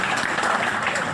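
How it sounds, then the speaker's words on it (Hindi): Audience applause at a Holi comic poetry gathering (kavi sammelan) in a New Delhi hall, a dense, steady wash of many hands clapping together at close range, continuous and fairly loud through the whole short stretch. "आप तालियां बजा सकते हैं"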